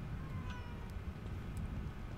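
A cat in the video game The Evil Within 2 gives a faint, short meow against quiet, rumbling game ambience.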